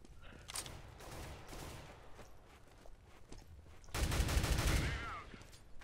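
Counter-Strike: Global Offensive gameplay with quiet in-game footsteps, then a sudden burst of rapid gunfire that swells louder for about a second before fading.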